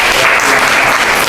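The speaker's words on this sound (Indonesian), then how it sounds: "Tepuk tangan dulu." Classroom applause from students clapping together, a dense, loud burst of clapping that fills the whole moment without any talk over it.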